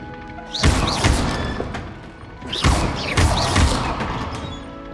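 Expelliarmus spell cast in the video game Hogwarts Legacy: two loud magical bursts, each a whooshing impact with thuds and crackling debris that fades out, the second following about two seconds after the first.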